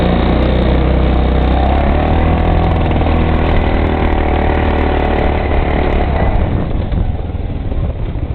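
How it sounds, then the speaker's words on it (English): A Hammerhead SS250 mini bike engine runs loud and close on a county road, a dense low rumbling drone with a rough, sputtering texture that holds steady throughout without talk. "Hope you can hear the sputter."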